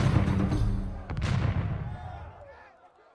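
Heavy cannon thunder in a naval battle cutscene from Age of Empires 2, Battle of Lepanto 1571, booming loud and rumbling, with a sharp blast near the middle and a long fading roll after it.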